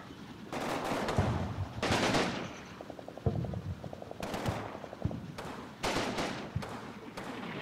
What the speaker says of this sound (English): At least the artillery's coming down where it's supposed to be